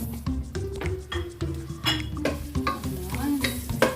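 Onion frying in hot oil while being stirred in a pan, a steady sizzle broken by repeated scraping and clinking utensil strokes close by.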